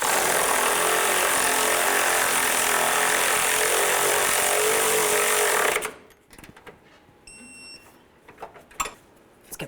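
A Chevy Tahoe idler arm's mounting nuts being run down with a power tool, a loud continuous mechanical whir for about six seconds that stops abruptly, followed by quieter clicks and small metallic clinks of handling.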